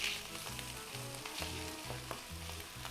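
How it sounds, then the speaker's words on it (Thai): Naem, Thai fermented pork sausage, stir-fried in a pan: a dense, steady sizzle up close with repeated soft scraping strokes of a spatula moving the meat around, no voices. "เอา แหนมใส่เข้าไปเลย แหนมเอาไปผัด"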